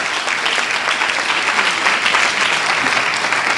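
Congregation in a church applauding steadily, a dense, continuous wash of clapping that holds at even loudness throughout with no voices above it.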